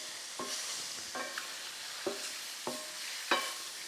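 Mushrooms sautéing in a pan with fat, a soft steady sizzle under five or six crisp scraping stirs of a utensil at roughly even intervals, close and moderately quiet.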